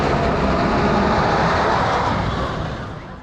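El Toro, the wooden roller coaster at Great Adventure, roars past as a loud, dense rush of rattling wheels and wind that stays steady and then fades slightly toward the end.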